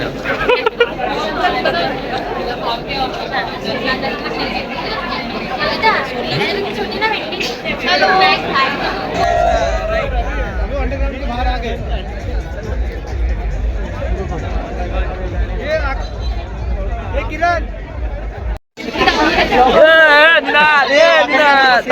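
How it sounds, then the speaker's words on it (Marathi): Dense crowd chatter and babble at the Tata Marathon Dream Run 2025, a steady hubbub of many voices close around with a brief dropout near the end before the noise returns. "मॅरेथॉनची गर्दी"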